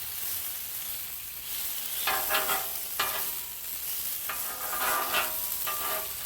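Thin bacon slices sizzling on a Blackstone flat-top griddle, a steady crackling hiss with a few louder spatula scrapes and stirring bursts, close and alone without talk.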